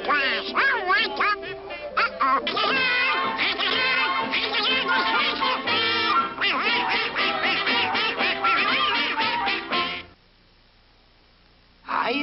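A cartoon duck quacks in a rapid, garbled jabber in a 1950s Disney animated short, loud and continuous for about ten seconds before cutting to near silence.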